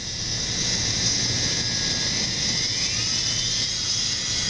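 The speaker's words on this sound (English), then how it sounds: "With my little trusty Dremel tool." Steady high-pitched whine of a Dremel rotary tool sanding a mahogany guitar inlay, running continuously and close without pause, with no talk over it.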